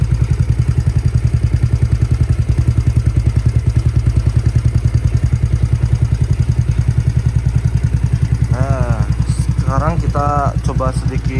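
A Yamaha Mio Sporty scooter fitted with an Aqill aftermarket exhaust idles steadily at close range, a low, even thrumming pulse throughout, with a voice speaking briefly over it near the end.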